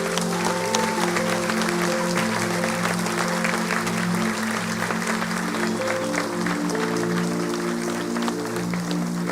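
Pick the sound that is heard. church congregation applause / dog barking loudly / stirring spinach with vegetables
church congregation applause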